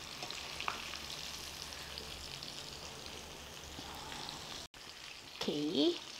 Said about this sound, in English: First dipped in corn flour, then in egg, then in breadcrumb, and then we fry and take it.